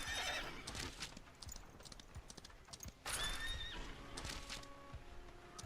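Horse in the western video game Far Far West whinnying twice amid clip-clopping hooves, the second neigh louder and closer, with game ambience and no talk.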